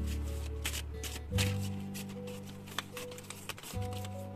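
Tarot and oracle cards being handled and drawn, soft papery shuffling and light slaps close by, over a steady low hum with a few faint taps.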